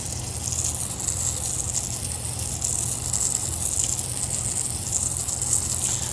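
A garden hose, switched on by a smart timer, runs with a steady, moderately faint gushing hiss that holds without a break.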